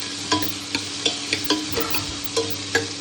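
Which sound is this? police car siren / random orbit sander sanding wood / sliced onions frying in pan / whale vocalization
sliced onions frying in pan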